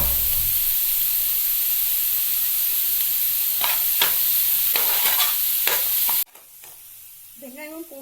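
Onion, garlic and ginger sauté with salt in a hot pan, giving a steady loud sizzle broken by spatula scrapes and stirring strokes. The frying noise then drops away abruptly to quieter kitchen sounds.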